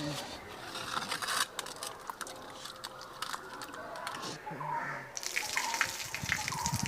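Running water from a tap splashes over ten chillies and three onions being washed in a kitchen, a fluctuating gush and patter close by, with a voice talking over it.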